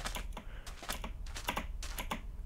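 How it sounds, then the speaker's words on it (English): Keys clack on a Razer BlackWidow Chroma gaming keyboard in quick irregular bursts of sharp clicks, close and fairly quiet, with no voices. "I am gaming on my Razer Black Widow Chroma keyboard"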